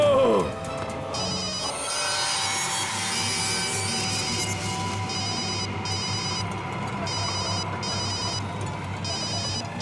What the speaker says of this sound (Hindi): रिया फोन उठाओ, रिया, रिया प्लीज फोन उठाओ